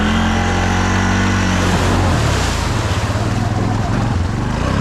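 A Honda Fourtrax 6x6 ATV is driven hard through mud in second gear, its engine droning loud and close with a steady low pitch that shifts partway through, plus wind buffeting the microphone.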